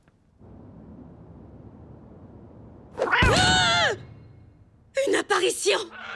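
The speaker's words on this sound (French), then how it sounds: "Oh oui, c'est un chat fantôme." A ghost cat in a Mr Bean cartoon lets out a loud, drawn-out wavering meow, followed by a few shorter yowls, over a low background hum.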